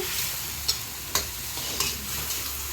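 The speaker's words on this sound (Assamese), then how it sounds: "পানী অকণ দি ভাজি আছোঁ।" Onion, tomato and green chillies fry in a pan with a splash of water, giving a soft continuous sizzle broken by a few sharp scraping clicks of stirring, close by with no talking.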